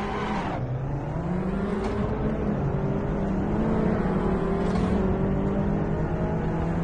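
Racing car engine in Assetto Corsa, the clutch let out while in gear: a loud, close, continuous engine drone whose pitch climbs steadily as revs rise, alone without talk.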